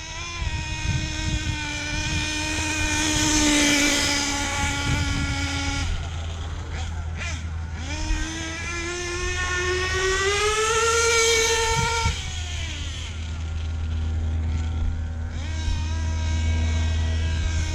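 A worn, badly broken Hobao Hyper VS2 nitro RC buggy engine screams at high pitch, surging and falling through several passes with brief cut-outs, sometimes near and sometimes farther off.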